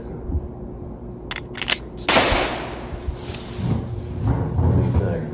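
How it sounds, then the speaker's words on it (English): A gunshot sound effect: a few sharp cracks, then one loud blast with a rough rumbling decay that lingers for several seconds, heard close and alone without speech. "It's a gunshot in this bitch."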